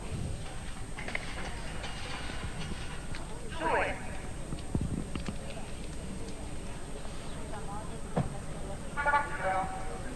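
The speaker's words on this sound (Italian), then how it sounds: "Il cavallo si chiama Licci." A horse's hooves clip-clop at a steady trot under ongoing speech, with faint background noise, during a 1988 show-jumping competition against the clock at Lido di Venezia.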